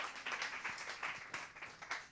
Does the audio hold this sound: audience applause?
yes